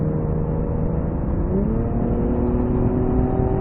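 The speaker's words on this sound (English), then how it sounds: "it's kind of hard not to put your foot in it just to hear the exhaust make all those lovely sounds." A 2019 Infiniti Q60 Red Sport 400 AWD coupe's engine revs through its exhaust, a loud, steady drone whose pitch bends and climbs midway as the throttle opens, with no talking over it.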